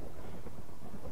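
A Minecraft thunderstorm rumbles low and muffled, with soft rain-like noise continuing throughout, fairly quiet and with no talk over it.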